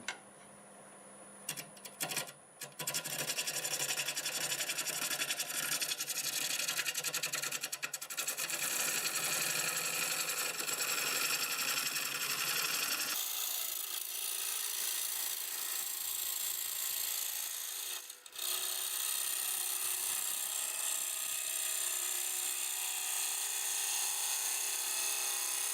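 A freshly sharpened 5/8 bowl gouge cuts olive wood spinning on a lathe at about 700 RPM, giving a steady, loud scraping hiss that runs continuously and shifts in tone midway, with no talking.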